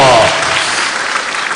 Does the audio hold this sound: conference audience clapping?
yes